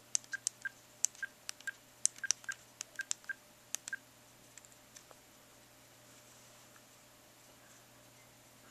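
Keypresses on a BlackBerry Curve phone keypad: about a dozen quick, close tones and clicks in an uneven rhythm for roughly four seconds, then a few fainter taps and a quiet stretch.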